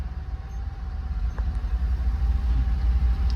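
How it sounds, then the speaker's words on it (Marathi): Slow road traffic after heavy rain near Chakan, with engines idling and rumbling low and close, a steady murmur that builds slightly, with no voices. "पाऊस झाल्याच्या नंतर बघा तुम्ही इथं ट्रॅफिक लागलेले"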